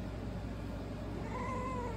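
A cat in heat gives a drawn-out, wavering yowl, loud and close, holding one continuous call for the full two seconds.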